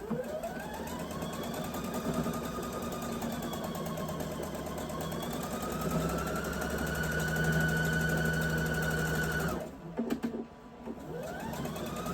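A sewing machine stitches a quilt block in one long steady run, its fast even whirring hum and rapid needle beat holding for about nine seconds before stopping briefly and starting up again, close and alone.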